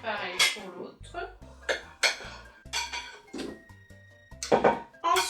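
Chorizo goes into the pot of a Cookeo multicooker for a pork, chorizo and sweet potato sauté. Close, sharp clinks and clatters of utensils against the pot come in quick bursts, with a voice speaking between them.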